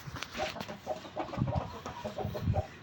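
A broody hen sitting on eggs on a rooftop clucks softly in short, irregular low murmurs, close by and fairly quiet.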